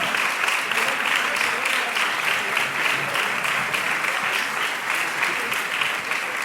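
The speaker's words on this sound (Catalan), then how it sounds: "Un aplaudiment també per als seus pares, per a Antonio i per a Rosa" Concert audience at a Santa Cecília orchestra performance in Quart de Poblet gives a sustained round of applause, dense and even for the whole stretch, honoring a violinist's parents.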